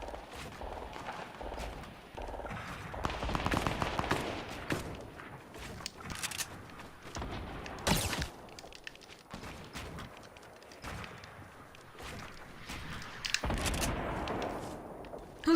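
Gunfire in a 50-versus-50 battle royale video game: scattered sharp shots and short bursts, some near and loud, others distant, over a busy layer of in-game noise.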